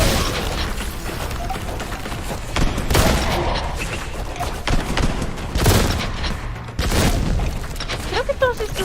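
Gunfire and booming impacts in a video game come as repeated loud bursts over a dense, noisy background, with heavier thumps scattered through and a few higher electronic tones near the end.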